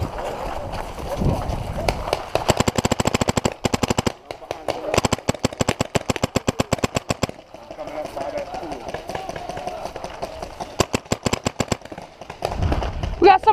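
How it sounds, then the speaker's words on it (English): Rapid bursts of gunfire from players shooting in a fast-paced match, loud and close, with repeated volleys across the clip and voices shouting at the start and end. "Oh, they're shooting."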